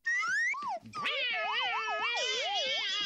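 A cartoon cat gives a long, wavering, siren-like meow that warbles up and down, loud and close, after a brief yowl at the start.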